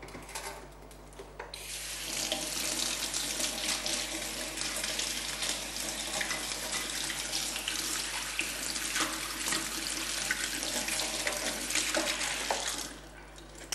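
Tap water runs steadily into a kitchen sink while an eggplant is washed, a continuous close gushing stream that starts after a brief pause and stops near the end.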